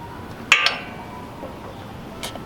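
While a Gravely Pro Stance mower's oil drain plug and cap are handled, a brief metallic clink sounds up close, followed by a quick secondary tap and a fainter clink later in a quiet space.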